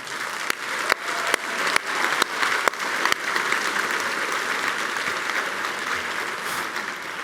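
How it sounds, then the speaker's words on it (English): A campaign kickoff audience rises in a standing ovation, sharp individual claps at first swelling into continuous full-room applause that holds steady, sounding somewhat distant. "A lot of standing and applause"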